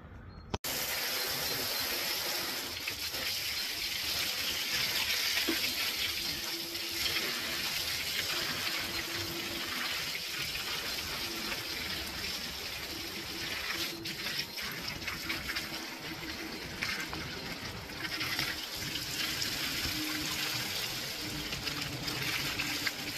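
Water from a garden hose running steadily into drainage channels beside a terrace, a constant close rushing and splashing flow that continues throughout without pause.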